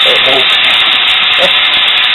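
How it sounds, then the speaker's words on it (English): Steam hissing out of a pressure cooker making vegetable beef stew: a loud, continuous broadband hiss that holds steady throughout, with faint voices underneath. "You see how that pressure comes, or that steam comes out of there."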